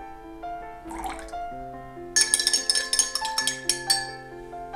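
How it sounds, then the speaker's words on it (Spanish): Water is poured into a homemade perfume mixture of mandarin, lemon and rosemary essential oils, giving close splashy trickling and dripping sounds over a sustained musical background. "Lo mezclamos bien y añadimos el agua."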